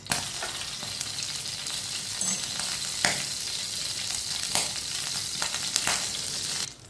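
Half a spoonful of whole cumin seeds sizzle and crackle in hot oil for Pakistani masoor daal, a steady close frying hiss with scattered sharper pops, no voices.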